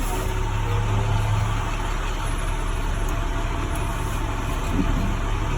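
A truck with trailer rolls slowly forward a few feet during an air brake test, its engine idling as a steady low rumble with a constant broadband hiss, loud and close throughout, with no voices.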